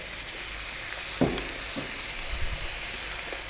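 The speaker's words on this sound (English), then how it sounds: "I've got 1 pint here of coconut milk. In that goes." A pint of coconut milk poured into a pan of vegetable curry sets off a steady, close frying sizzle with a couple of faint knocks, no voices over it.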